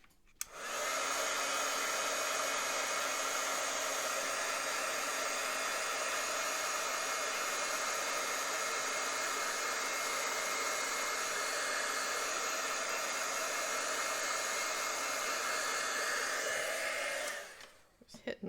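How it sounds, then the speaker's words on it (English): An embossing heat tool blows hot air over a card in one steady, close, loud whoosh that runs about seventeen seconds, then cuts off abruptly. "I'm going to go ahead and hit this with the heat tool again"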